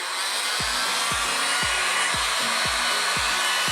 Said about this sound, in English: Now the edges, I'm going to use a heat gun.